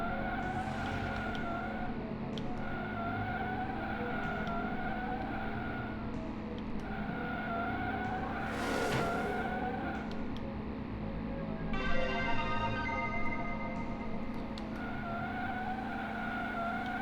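Race cars in the 1980s-style racing game Slipstream, holding a steady engine drone throughout with a tire-skid burst partway through, loud and continuous with no talk.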